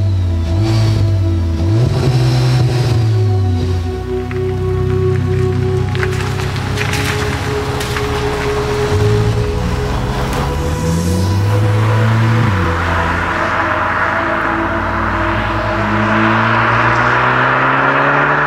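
A SEAT Leon Cupra ST estate car drives and accelerates hard, its engine loud and close, rising and falling in pitch through several gear changes over steady road and wind noise.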